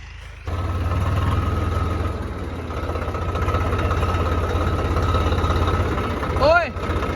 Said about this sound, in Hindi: वो देखो वो चल रहा है वहाँ पे ट्रैक्टर मैसी